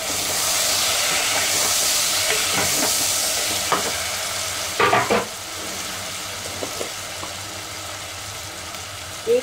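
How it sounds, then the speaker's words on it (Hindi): Chopped tomatoes added to frying onions sizzle steadily in a pan, a constant hiss with a few clinks and scrapes of a spoon, no talk. "अब हम इसमें ऐड कर देंगे तीन छोटे छोटे कटे हुए टमाटर।"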